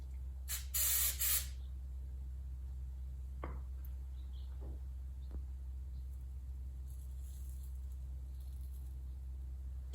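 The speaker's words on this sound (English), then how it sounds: "And I'll spray the activator." CA glue activator sprayed onto wood during a waterfall coffee table build: one short, loud aerosol hiss near the start, then quiet with a few faint taps.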